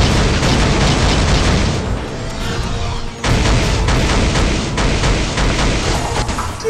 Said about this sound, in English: Did he just do a hidden missile?